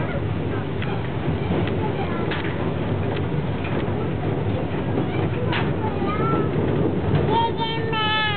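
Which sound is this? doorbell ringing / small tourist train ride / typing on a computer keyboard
small tourist train ride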